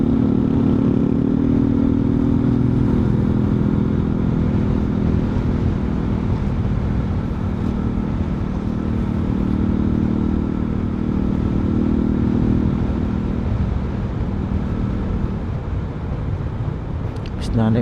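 A Honda XRM motorcycle engine drones steadily while riding on a coastal road, with continuous wind and road noise mixed in, close and sustained.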